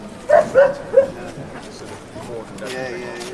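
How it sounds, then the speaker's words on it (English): Police dogs barking inside vans at a London street protest, three quick, muffled barks close together followed by fainter whines, under the noise of a crowd outdoors. "Just lots of barking in vans."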